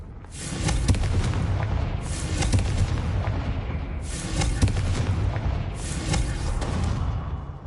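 Confringo fire spell from Hogwarts Legacy on PS5, cast as a run of loud, sustained booming blasts with rumbling explosive bursts rising and falling in several waves, no talking.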